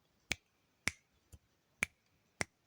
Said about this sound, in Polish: Tak, tak pstryk po prostu.